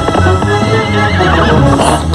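A cartoon horse whinnies loudly as its hooves clip-clop in a steady rhythm, close and prominent throughout.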